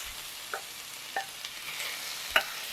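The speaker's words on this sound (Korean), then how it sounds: "당근 위에 오일 한 큰술 둘러주고 섞으면서 볶으세요." Sliced carrots and onions stir-fried in oil in a pan, with a steady soft hiss under a few sharp scraping stirs and clinks spaced across the moment, nearby and fairly quiet.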